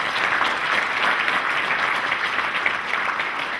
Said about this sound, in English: I think that deserves a huge round of applause.